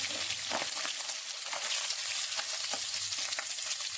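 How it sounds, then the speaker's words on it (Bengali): Stinging catfish pieces fry in hot oil in a pan, crackling with a dense, continuous close-up sizzle broken by small pops and spatters. "এক পাশ আমার লাল লাল করে ভাজা হয়ে গেছে আর এক পাশ আমি লাল লাল করে ভেজে নেবো"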